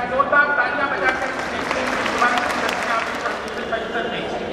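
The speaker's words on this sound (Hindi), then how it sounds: "जोरदार तालियां बजाकर" Audience applause at a public address in Ahmedabad, a dense wash of clapping from a crowd that swells and holds, mixed with speech over the top.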